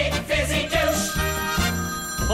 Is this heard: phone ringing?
yes